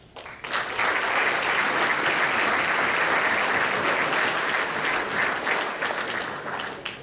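A large banquet audience at a basketball awards dinner breaks into loud, sustained applause, dense clapping that swells quickly and holds steady for several seconds before easing slightly.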